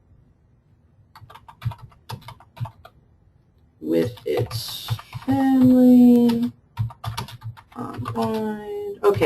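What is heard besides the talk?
typing on a computer keyboard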